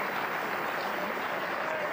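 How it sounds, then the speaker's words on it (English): A stadium crowd applauds a substituted goal scorer leaving the pitch during a PSV Eindhoven versus FC Basel friendly, a steady, broad wash of clapping and crowd noise held at an even level throughout. "accepts the applause of the crowd"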